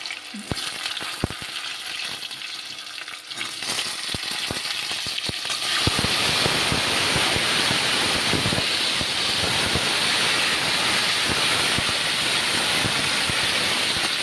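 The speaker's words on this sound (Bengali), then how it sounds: "এইবার আমি কেটে রাখা আলু কচু আর কাঁচা লঙ্কাগুলো একে একে দিয়ে দেবো।" Cut potato, taro and green chillies drop into a hot oiled pan, the quiet start giving way to a loud, dense sizzle and crackle that holds steady close by.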